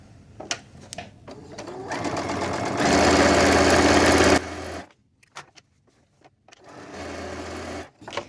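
A sewing machine stitches diagonal quilting lines across a small keychain wallet, with a fast continuous whir that speeds up, stops, then runs again amid light clicks and handling noises.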